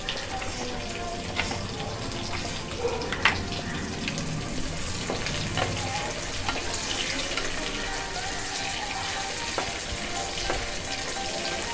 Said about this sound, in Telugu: తాలింపులోకి హాఫ్ టమాటో వేయాలి